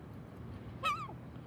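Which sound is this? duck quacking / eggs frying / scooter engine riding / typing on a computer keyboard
duck quacking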